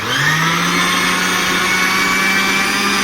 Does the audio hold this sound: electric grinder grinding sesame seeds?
yes